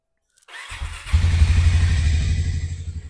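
A 2025 Harley-Davidson 440cc motorcycle in excellent condition at a used bike showroom starts with a short crank, then catches into a deep, loud, throbbing idle close by.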